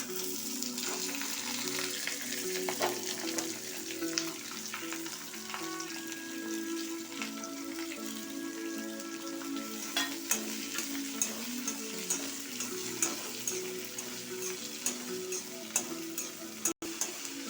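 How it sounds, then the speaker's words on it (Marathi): Chopped onion sizzles and fries in hot oil in a pan while being stirred for a paneer masala gravy, a continuous crackle with light ticks of the spatula, no voices. "हा कांदा थोडा शिजेपर्यंत तेलामध्ये जरा शिजला पाहिजे म्हणजे चांगलं लाल करायचं नाही पण चांगलं परतवून हे घ्यायचं आहे"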